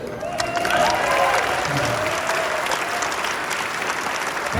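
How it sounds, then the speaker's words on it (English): Dense, steady applause from a large audience at a Lindy hop swing dance ball, sustained and loud throughout with a crowd wash and a faint voice briefly underneath. "Big round of applause just for Joseph"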